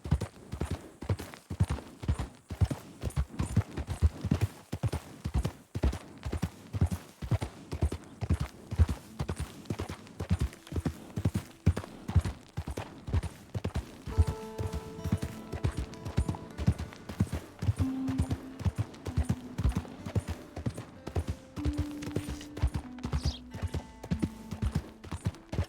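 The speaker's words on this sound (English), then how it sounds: "That gunfire is spooking our horse." Horse hooves clip-clop steadily in Red Dead Redemption 2, a fast rhythmic trot of close, repeated thuds running throughout, with soft musical tones rising faintly beneath near the middle and end.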